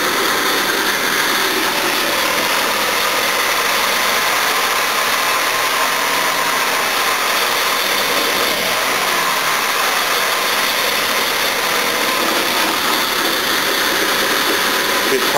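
A 1969 Jaguar XJ6 Series 1 engine, cold and with its timing chain not yet adjusted, runs steadily at idle with a constant dense hum and no change in pace throughout.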